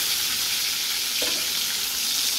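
Eggplant slices fry in hot oil with a steady, dense sizzle and crackle that lasts the whole time, close and fairly loud, with no voices.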